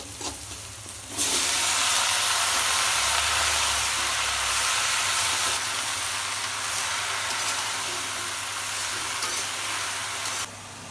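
Onions with a little salt and turmeric sizzle and crackle steadily in hot oil, a loud continuous frying hiss close by, with occasional stirring and no voices.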